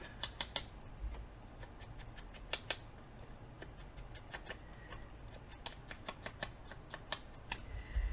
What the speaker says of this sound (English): trim that up a little bit with my scissors